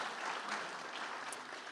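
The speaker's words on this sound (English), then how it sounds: "give that another round of applause" Applause from an audience at an evening community event. A steady, diffuse round of clapping sounds quiet and somewhat distant, and no voices are heard.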